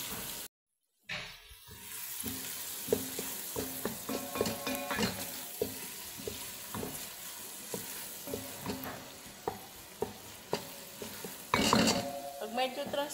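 Chopped onion frying in melted butter in a pan as the base for a creamy shrimp and squid soup: a steady close sizzle with regular spoon scrapes and taps from stirring, a brief gap near the start, and a louder crackling burst toward the end.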